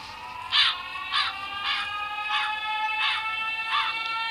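A crow in a horror video game caws six times at an even, steady pace, each call loud and clear over a quiet background.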